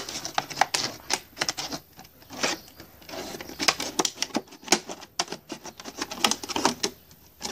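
Scissors snipping through material marked at 14.5 cm for a low-cost succulent nursery, a close, quick run of sharp crisp cuts in irregular bursts with no voices.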